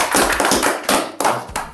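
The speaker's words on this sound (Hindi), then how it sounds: "तालियां बजाओ भाई" A few people clap to welcome interview guests, loose irregular handclaps close to the microphone, coming in uneven bursts with brief gaps rather than a full crowd applause.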